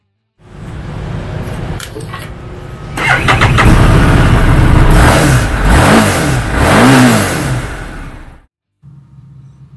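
A 2017 Harley-Davidson XG750 Street 750 V-twin cruiser, fitted with a new rear tire, starts up and revs loudly in several swelling bursts before dropping to a quieter idle at the end, with no talking.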